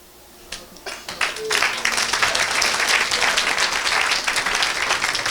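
A church congregation breaks into applause, starting with a few scattered claps and swelling within a second or two into sustained, dense clapping from many people, with faint voices mixed in.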